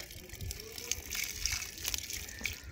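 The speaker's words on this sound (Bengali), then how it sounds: "তো ভালো করে জল দিতে হয়, কারণ শীতকালে না একটু জলটা বেশি দিতে হয় গাছে।" Water is poured onto potted plants in winter, a soft, faint trickle with irregular small splashes and gushes over a few seconds.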